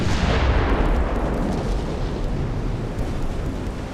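Warship guns in a 1900s dreadnought-era naval battle game, a heavy continuous roar of firing and shell impacts, loud and dense at the start and easing slightly, with no talk.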